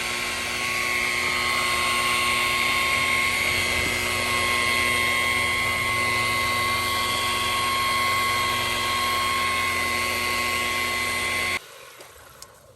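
A rotary polisher compounding boat gel coat at around 1200 rpm whines steadily and loudly for most of the time, then stops abruptly near the end, leaving near silence.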